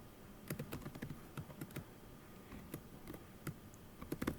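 Fast, quiet typing on a computer keyboard indoors, bursts of light clicky keystrokes with a short pause in the middle, heard alone without speech.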